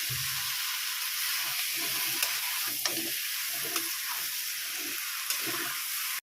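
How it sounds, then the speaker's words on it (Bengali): Boiled jackfruit being stirred into a sizzling spice mix in a pan, with a steady frying hiss throughout and repeated soft scraping stirs and a few sharp utensil clicks close by, no talk. "এবার এঁচোড়টা দিয়ে দেবো, সেদ্ধ করা এঁচোড় দিয়ে ভালো মতো নাড়িয়ে দেব।"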